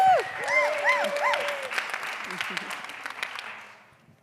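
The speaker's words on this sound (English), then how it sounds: "round of applause, please" Conference audience applauding as a volunteer is called up, clapping building under a speaking voice and then thinning out toward the end.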